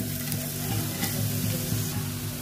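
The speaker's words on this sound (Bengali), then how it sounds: "তেলটা গরম হয়ে গেছে, এর মধ্যে আমি এবার ডিম মুড়িটা যে মাখিয়ে রেখেছিলাম সেটা দিয়ে দেবো এর মধ্যে" An egg and puffed rice mixture frying in hot oil in a frying pan for dim deya murir chaat, a steady close crackling sizzle with a faint low hum beneath and no talking.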